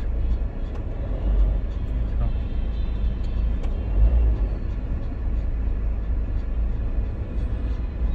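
Low, steady rumble of road traffic in Delhi heard from inside a vehicle, with engine drone and muffled passing cars; people talk over it.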